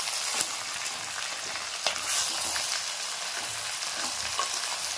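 Chettinad chicken marinated in ginger-garlic paste sizzles steadily in a pan with onions, dried red chillies and garlic, a soft, constant crackle with small pops and stirring, and no voices.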